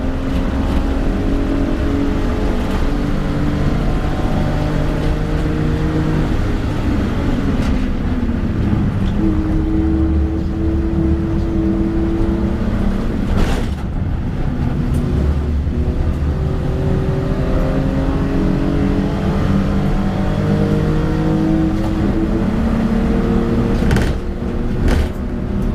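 An £850 hatchback race car runs a qualifying lap, its engine droning loud and steady throughout, with rising and falling rev sweeps as it accelerates and shifts through gears, plus a couple of sharp transient knocks along the way.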